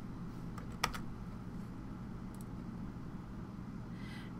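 Keys tapped on a computer keyboard while entering a permit number into a contractor web portal, a few faint scattered clicks over a low steady background hum, with no talking.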